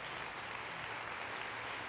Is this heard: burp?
no